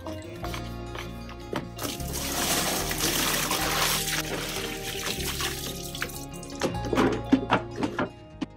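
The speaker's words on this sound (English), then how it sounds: "Swish the solution around the interior of the bucket" Cleaning solution sloshing and swishing inside a spin mop bucket as it is scrubbed, a steady wet trickling wash with a few sharper splashes near the end, close and fairly loud, no talk.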